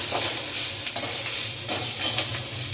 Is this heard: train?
no